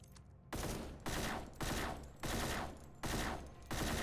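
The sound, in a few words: hit sound when shooting enemy with partial resistance in The AMC Squad video game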